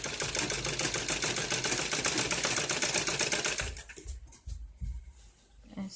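A sewing machine stitches net cloth for a ladies' suit, running in a fast, even rhythmic clatter for several seconds before stopping, after which only faint handling noises remain; close and clear.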